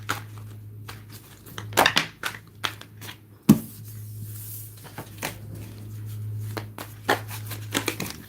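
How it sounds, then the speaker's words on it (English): A deck of tarot cards being shuffled close by, in quick crisp riffling bursts spread across the clip, with one sharp snap partway through, over a steady low hum and no talking. "I'm going to take whatever card comes on the bottom of my deck after I shuffle."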